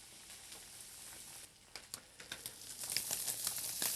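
Veal sweetbreads are turned and browning in a hot pan, giving a soft, faint sizzle with light crackles and patter that build in the second half. The sound stays close and low, with no talking.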